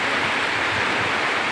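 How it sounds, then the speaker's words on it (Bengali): Heavy rain pouring down, a dense, constant broadband hiss with no breaks, close and steady throughout. "অনেক জোরে চলে আসছে বৃষ্টি, দেখছেন"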